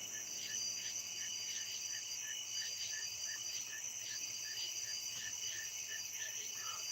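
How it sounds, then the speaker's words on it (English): Crickets chirp outdoors at night in a dense, continuous pulsing trill, with many insects calling at once in a steady, even chorus. "How them crickets sounding on y'all's end?"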